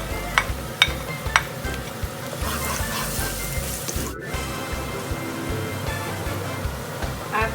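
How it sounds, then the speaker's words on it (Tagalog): Garlic dropped into a hot pan hisses into a steady, dense sizzle, with a few sharp utensil clatters early on. The frying stays close and even throughout. "Okay, mainit na ating pan, kaya ilagay na ang bawang."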